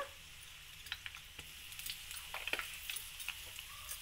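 Curry leaves crackle and sizzle in hot oil while tempering for tomato pachadi, a steady faint fry with scattered sharper pops and spits, no voices.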